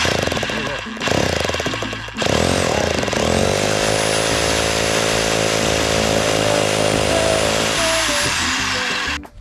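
A power drill drilling holes while assembling a Keter Darwin 6x8 tool shed whirs steadily for several seconds with a loud, high-pitched whine, after some brief clattering at the start.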